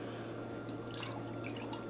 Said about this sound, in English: I'm going to pour through my 3rd cup